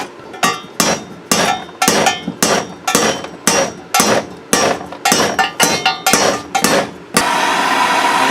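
A hammer strikes a heated exhaust header right on a weld for a long-tube setup on a 4.3 Vortec, giving about twenty sharp metallic blows in a fast uneven rhythm, loud and close, ending with a hiss of noise.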